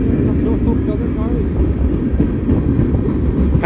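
A Norfolk Southern mixed freight train rolls past in Elkhart, Indiana, a steady loud low rumble filling the whole stretch with faint clatter on top.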